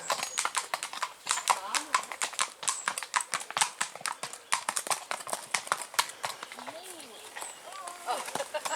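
Horse hooves clip-clop steadily on a country lane, a quick continuous rhythm of close, crisp strikes with a few faint vocal sounds in the background.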